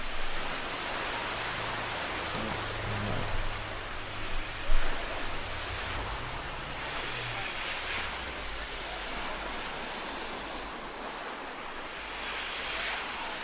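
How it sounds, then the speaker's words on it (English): Artificially generated water waves roll in one after another as a continuous broad wash of surf, with wind noise over it. "So now they're just showing multiple waves, like wave after wave."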